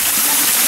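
A winter waterfall pours hard and close during cold-water training, a loud, unbroken roar of falling water with no voices.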